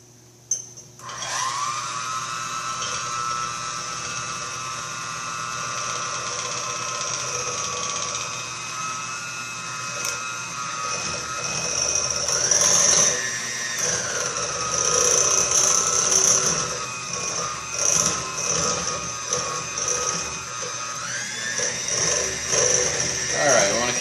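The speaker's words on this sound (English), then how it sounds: "we're going to take our 5 egg yolks and 3/4 cup of sugar, and we're going to blend them together until it gets to be a smooth consistency" A kitchen blender whirs steadily, mixing egg yolks and sugar into an ice cream custard base. The motor keeps a continuous mechanical drone with shifting pitch for over twenty seconds, and a person talks over it.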